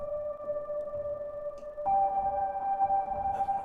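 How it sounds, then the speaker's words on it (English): Sustained piano tones drenched in long reverb ring out steadily, with a second chord entering midway and layering over the decaying first; a faint mechanical click of the hammer sits beneath the wash of sound, all calm and alone. "I don't know if you can hear the hammer being released there."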